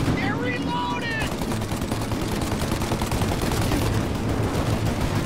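Heavy gunfire in a farm shootout in Mafia Definitive Edition, with a turret gun hammering out rapid, continuous bursts alongside other shots, loud and sustained throughout.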